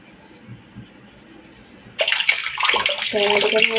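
Karonda fruit is rinsed under a running tap. After two quiet seconds, the water suddenly gushes loudly and keeps splashing steadily to the end.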